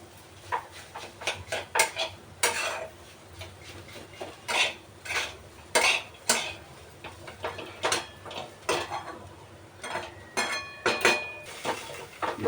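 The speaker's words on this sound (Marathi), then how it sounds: "आपल्या उलटणीच्या साहाय्याने चांगले फोडून घ्यायचं आणि हलवत राहायची" Peanuts being stirred in a metal kadhai with a spatula, giving repeated scraping and clinking strokes in an uneven rhythm, close and moderately loud, with no talking.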